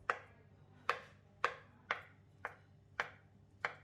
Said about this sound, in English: cut the potato into 1-inch cubes or bite-sized pieces